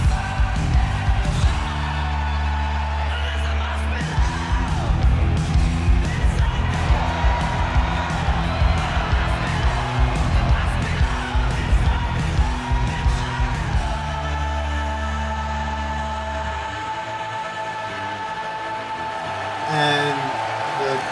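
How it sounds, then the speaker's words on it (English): A wrestling crowd cheers and yells through Anna Simmons' ring entrance with pyro, under loud, pounding theme music that drops away near the end, leaving a brief swell of crowd noise. "the crowd enjoying the performance by Anna Simmons, complete with pyro"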